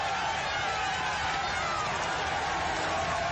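A huge roadside crowd on Mont Ventoux during the 2009 Tour de France stage, a dense, loud, continuous roar of voices and cheering right up close.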